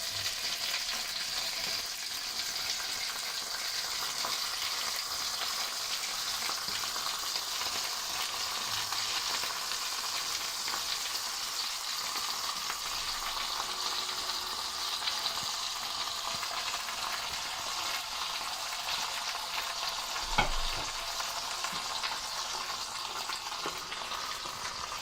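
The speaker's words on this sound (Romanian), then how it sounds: "Acum o să adăugăm încet smântână." Chicken fries with a bright, even sizzle as sour cream is slowly stirred in, a continuous hiss with faint occasional stirring touches and one soft knock, no voices.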